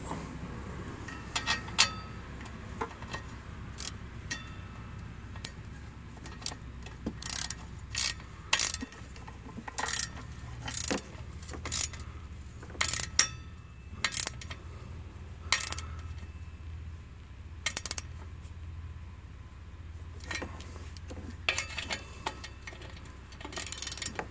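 Ratchet clicking in repeated short bursts while snugging up bolts on the engine brace of a 2013-2015 Chevrolet Malibu LT 2.5L, close and crisp with pauses between runs of clicks.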